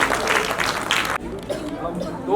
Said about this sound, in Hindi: जोरदार तालियां हमारे डोनर्स व बच्चों के लिए।